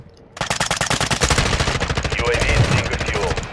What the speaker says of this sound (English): it's another team shooting